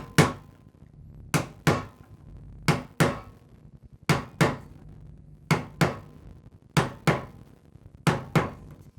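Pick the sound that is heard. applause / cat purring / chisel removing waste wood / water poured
chisel removing waste wood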